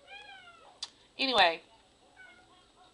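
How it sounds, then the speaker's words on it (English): A pet cat meows indoors a few times: a drawn-out meow, then a louder strained one, then a short softer call. A person says a brief word in between. "That's my cat yet, I'm sorry."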